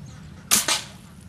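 An air gun fires a 6.3mm brass pellet underwater in salt water, giving two sharp, close cracks in rapid succession against a low background.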